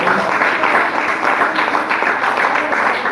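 A church congregation clapping after a sermon on the Book of Revelation; a steady, full round of applause from many hands, sustained and even, with no speech over it.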